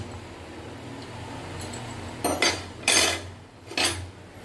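Mushroom and vegetable biryani ingredients are mixed in a pot, with a few clanking scrapes of a metal spoon against the pot after a quieter start.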